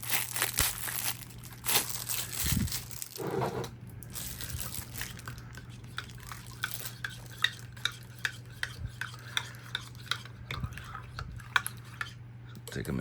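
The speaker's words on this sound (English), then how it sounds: "Alright, let's give this a little mix." A spoon stirs a microwave-style meal of spicy oriental chicken with rice, giving close, soft scraping and squelching with crinkly packaging rustles, in irregular strokes over a steady background hum.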